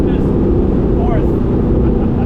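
A 400-horsepower Mazda Miata engine and exhaust fitted with a Camaro muffler with active flaps, not hooked up, drones as a loud, steady low rumble that holds unbroken and close throughout, with no clear revs or gear changes.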